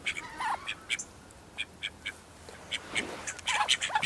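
Ducks quack repeatedly in short nasal calls, several overlapping and close, with a busier burst toward the end.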